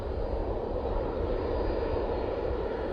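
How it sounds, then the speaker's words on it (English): Jet2 Airbus A321 at Manchester Airport, a steady, broad engine roar holding at constant level throughout, moderately loud and continuous with no talk. "Jet2 A321 is coming on."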